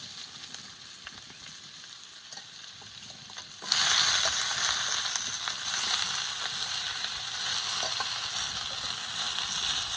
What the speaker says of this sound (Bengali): এবার আলু খুব সুন্দর করে ভেজে নেব।